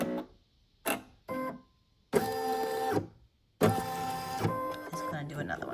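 A single-needle embroidery machine stitching the placement line for clear vinyl on an in-the-hoop ID badge holder, close and loud, in short buzzing bursts with pauses, then longer runs of rapid rhythmic stitching and motor whine.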